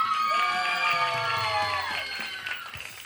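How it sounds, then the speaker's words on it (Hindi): Studio audience at a Sindhi game show clapping, cheering and whooping loudly, with shouted voices over steady applause for about three seconds before it thins out. "तालियां बजाइएगा"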